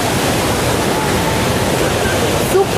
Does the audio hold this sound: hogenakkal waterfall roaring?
yes